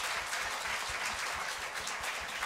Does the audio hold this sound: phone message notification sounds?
no